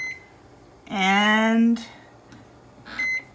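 A kitchen timer being set for corn cooking gives short electronic beeps, the first clear one brief and another near the end, while someone talks over it close by.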